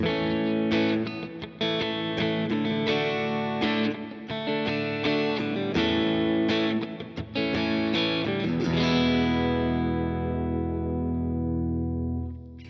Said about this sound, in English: This is more like a clean rhythm guitar sound is what I'd kind of use it for